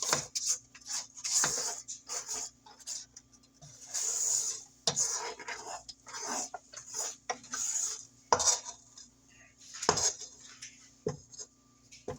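A spatula scrapes down the sides of a mixing bowl of lemon pecan pound cake batter, giving repeated close scraping and clinking strokes at an uneven rhythm, with a faint steady mixer hum underneath.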